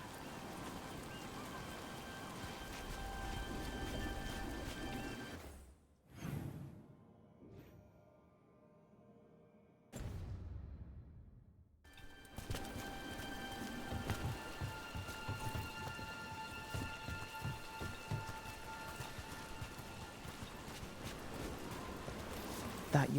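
Steady rain hisses and patters throughout a scene in the video game Dragon Age: The Veilguard, briefly dropping out for a few seconds near the middle before returning, with faint talk beneath.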